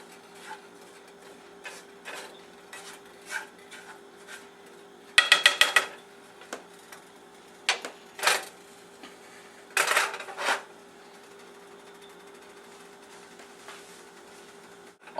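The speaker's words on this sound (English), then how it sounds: "the sugar is starting to melt some. So I'm going to stir it up a little bit" Sugar melting in a pan for baked flan caramel, stirred with a utensil: scattered clinks and scrapes of metal against the pan, with a busier cluster of scraping bursts in the middle, close and fairly quiet over a steady low hum.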